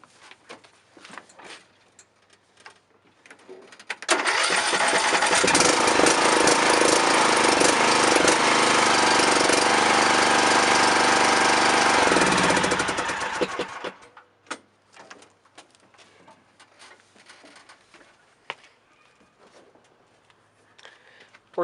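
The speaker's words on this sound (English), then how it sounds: "Okay, this is the startup test with those long 4-inch bolts." A John Deere lawn tractor engine cranks and starts, runs at a loud steady idle for about ten seconds, then shuts off, leaving quiet clicks and handling noises.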